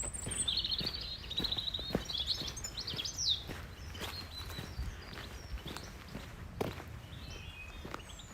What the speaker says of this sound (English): A lot more birdsong now.